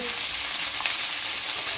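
Steady, loud sizzling of peppers frying in a pan, with a faint scrape of stirring with a wooden spatula partway through; no voices.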